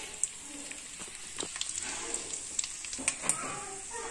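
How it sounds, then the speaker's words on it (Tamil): Homemade vadagam frying in hot oil for a sardine fish curry, with a steady close sizzle and scattered crackling pops. "வடகம் நல்லா பொரிய விடணும்."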